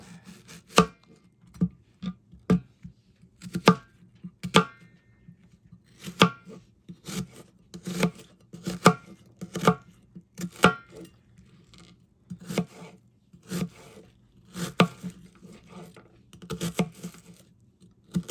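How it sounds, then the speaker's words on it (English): An onion is chopped with a knife on a cutting board for fermented salsa, the blade landing in quick irregular bursts of crisp, close thuds and taps that pause briefly between runs, with no voices. "Now we're going to cut our onion up."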